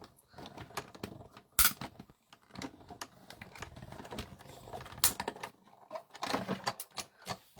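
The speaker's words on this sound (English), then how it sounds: "I was running this through the die cut machine" A paper-crafting die cut machine feeding paper through, giving a steady mechanical whirring and clicking with a few sharper knocks, moderately close and fairly quiet, with no talk over it.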